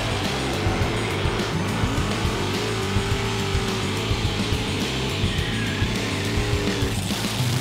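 A drag car at the Father's Day Drags lays down a long smoky burnout, a steady loud engine roar with tire noise running throughout.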